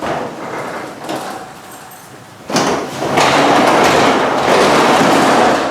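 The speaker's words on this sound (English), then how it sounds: "In case of power failure, you can open and close the garage door." A townhome garage door is pulled down and closed by hand, a loud rolling, rattling rumble with clattering panel sounds that quiets briefly and then grows louder and continuous, close by with no talk.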